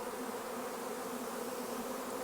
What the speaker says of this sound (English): This is the most bees I've ever seen on a swarm.